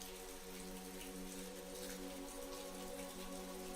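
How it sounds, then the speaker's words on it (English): Steady rain falls with a dense patter of drops, constant and even, over a low hum, with no voices. "As the rain poured outside"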